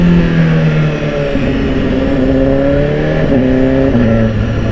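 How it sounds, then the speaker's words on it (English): Close, loud inline-four engine of a BMW S1000RR motorcycle revving, pitch climbing through gears in smooth rising sweeps with brief dips at each shift. "I really like this engine, the inline 4,"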